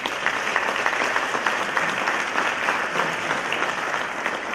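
Sustained applause from a large audience at a university Martin Luther King convocation, a dense steady roar of many hands clapping without a break, moderately loud throughout.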